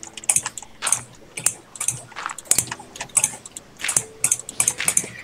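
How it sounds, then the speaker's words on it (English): A computer keyboard and mouse click rapidly in quick, uneven bursts during a Minecraft survival game, close and fairly loud, with no talking. "I can hear you clicking like mad."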